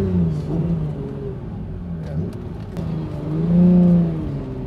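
A 1988 Ferrari Testarossa engine revs up and down, its pitch climbing and falling, loud and close with no voices.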